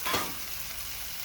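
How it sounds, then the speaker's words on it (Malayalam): Beef for a Kannur-style beef roast sizzles in a pan with sautéed chopped onions as it is stirred, a short, faint frying hiss with a brief scrape at the start. "ബീഫ് ഇട്ടതിന് ശേഷം ഒരു 5 മിനിറ്റ് ഇതേപോലെ ഉള്ളി ചോപ്പിച്ചതിനകത്തേക്ക് ബീഫ് മിക്സാക്കുക"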